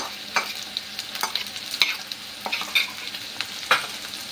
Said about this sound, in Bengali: চিংড়ি মাছটা একটু তেলের সাথে ভেজে নেব